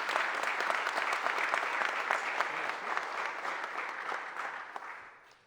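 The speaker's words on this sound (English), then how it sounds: "Let's give her a round of applause." A room of people at a mayor's press conference breaks into a full round of applause, dense and steady clapping at moderate volume that fades out at the end, with no speech over it.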